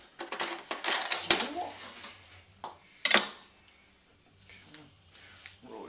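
Metal cutlery clattering and clinking as a knife is pulled from a utensil drawer in a kitchen, a few sharp rattling bursts with a louder clank near the end.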